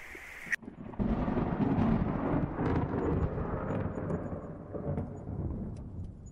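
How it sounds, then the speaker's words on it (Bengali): A sharp crack opens a long, rolling thunder rumble that fills the air and slowly fades, with steady heavy rain hissing underneath throughout. "এই যে বৃষ্টি আর বাজ পড়ছে, বাইরে কারোর পক্ষেই বেরোনো সম্ভব না"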